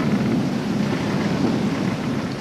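A thunderstorm sound effect plays during a children's read-aloud story: steady, hissing rain with a low rolling rumble of thunder, continuous and fairly loud.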